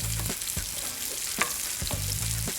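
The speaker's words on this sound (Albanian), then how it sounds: "I përziej mirë. Me qëllim që edhe qepa të ngjitet tek patatet." Potatoes and onions fry in a pan with a steady sizzle while a utensil stirs and scrapes through them in several rhythmic strokes, close and continuous, with no talk.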